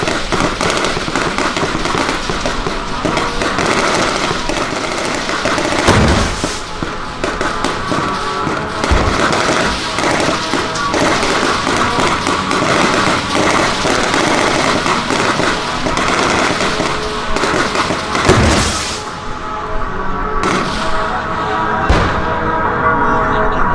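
Dense, continuous crackling gunfire from rifles and a light machine gun mixes with sharp bangs and heavier booms during a military company assault exercise rehearsal. The shooting is loud and sustained with occasional stronger blasts and no talking.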